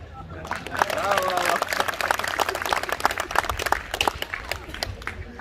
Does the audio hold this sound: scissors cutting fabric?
no